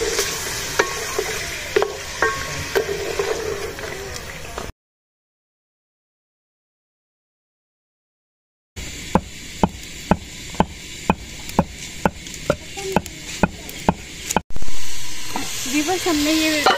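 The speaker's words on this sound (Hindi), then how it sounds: "सिर्फ हमने घी को हल्का सा गर्म करना है और हमने इसमें चिकन शामिल कर देना है।" Chicken fries in lightly warmed ghee for a white chicken korma. The sizzle is loud and close, with regular tapping strokes from stirring. A stretch of silence breaks it before the frying and tapping resume.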